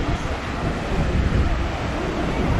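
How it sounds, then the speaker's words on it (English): Ocean waves wash against a rugged, rocky stretch of the Isla Mujeres coast, with wind buffeting the microphone. The whooshing roar stays steady and loud throughout. "But there's some good old waves here."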